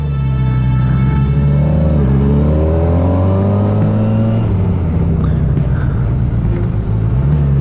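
Motorcycle engine revving and shifting on a very narrow Pyrenees mountain pass, a steady loud rumble with rising and falling pitch sweeps as gears change, constant throughout with wind noise.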